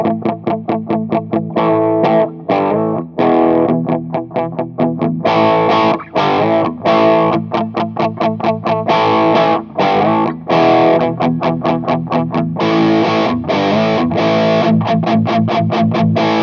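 An electric guitar run through Rat distortion pedal plugins plays a loud, thick, gritty riff of chugging chords and palm-muted strums, dense and sustained for the whole stretch, with no talk.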